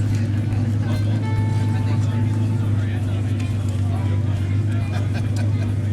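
A vintage Jaguar race car engine idles after a push start at Pebble Beach Concours d'Elegance, a steady loud low rumble beneath crowd babble and an announcer talking.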